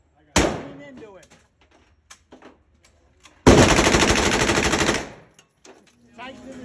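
Loud gunfire at a Las Vegas shooting range: one sharp shot, then a few faint pops, then a long rapid automatic burst lasting over a second, with an instructor's voice talking in between.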